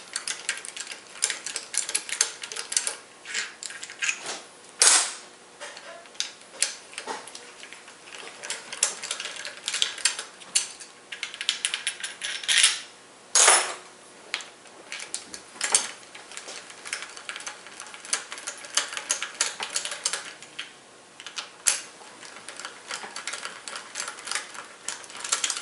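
Fasteners being removed from the outer gearbox housing of a Rotax gearbox, continuous close mechanical clicking and ratcheting with metallic rattles and a few sharper clanks, steady and fairly loud, no talk.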